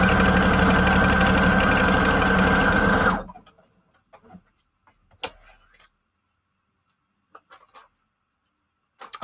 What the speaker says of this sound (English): So I'm going to do a zigzag stitch on this, just to kind of get all 3 papers sewed together.